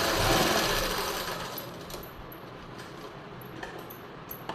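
A sewing machine stitches darts on a blouse lining, a close, continuous whirring hum that is strongest at the start and gradually eases, with small clicks near the end and no talk.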